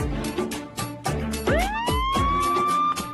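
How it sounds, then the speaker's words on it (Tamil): An ambulance siren wails nearby, rising and falling in a repeating cycle over steady street noise and pulsing beats. "ஆம்புலன்ஸ் வந்துச்சுங்க"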